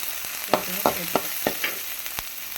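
Onion and chilli sautéing in a pan for sundal, with a soft steady sizzle and several sharp spatula scrapes and taps spaced through the brief stretch, close by with no voices.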